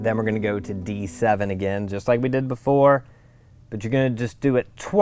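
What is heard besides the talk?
No everyday noise stands out behind the speech.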